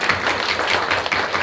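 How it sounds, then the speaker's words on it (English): An audience at a charity rice-sharing event breaks into applause, a dense, steady wash of many hands clapping throughout. "Please give yourself a very big round of applause."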